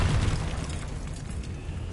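A short burst from the Confringo blasting spell in Hogwarts Legacy goes off, a muffled boom that fades into a low rumbling tail, fairly quiet overall.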